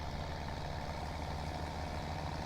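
A tractor engine idles in the video game Farming Simulator 17, giving a low, steady, unbroken drone at moderate level with no other sounds.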